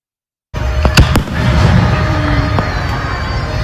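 Distant July 4th fireworks boom and crackle across an open outdoor setting, with a few sharp reports standing out over a steady rumbling wash of bursts that continues throughout.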